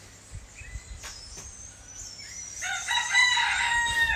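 A rooster crows near the end, a loud close cock-a-doodle-doo rising over quiet outdoor background with a few faint bird calls and thumps before it, no talk.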